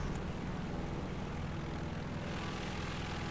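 Propeller engine drone of an M.B.174A-3 twin-engine plane in War Thunder realistic battles, flying on a single engine, a steady, low, continuous hum with no voices.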